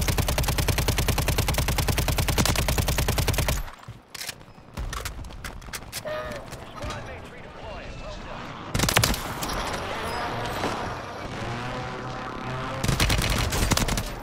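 Gunfire in the Call of Duty video game comes in dense rapid bursts, with loud sustained automatic firing at the start and end and scattered sharp shots between.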